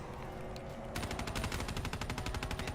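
Rapid automatic gunfire in a zombie shooting video game, a quiet stretch followed by a sudden burst of evenly spaced shots continuing for about two seconds.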